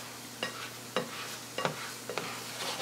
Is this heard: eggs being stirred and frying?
yes